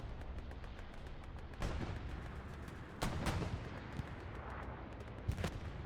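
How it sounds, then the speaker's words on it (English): Bombs from a bombing run land during a 49-versus-49 Hell Let Loose match on Utah Beach, with distant booming blasts and sharp cracks rolling over a continuous battlefield din. "the bombing run coming out from LGN"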